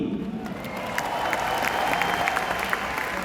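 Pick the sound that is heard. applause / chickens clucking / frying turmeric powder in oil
applause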